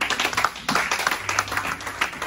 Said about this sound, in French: Acclamez Dieu pour les chants.